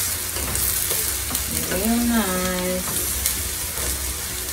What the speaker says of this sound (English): saute these